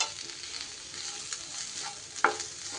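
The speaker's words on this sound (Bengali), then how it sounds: "একটু এইভাবে ভাজা ভাজা করে নেব।" Ground turmeric, coriander and cumin frying in a pan with a steady close sizzle, stirred with occasional scrapes and a sharper clink near the end; no voices.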